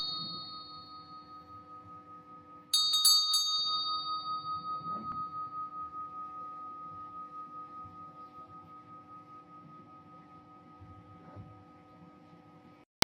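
A single bright bell strike rings out clearly, then hums and fades slowly over several seconds, with a steady tonal drone and soft rumble underneath.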